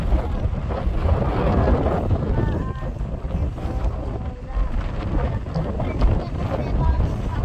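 Strong wind blows across the Most národnej jednoty bridge in Sátoraljaújhely, a loud, gusty rumble buffeting the microphone throughout, with voices faintly beneath it.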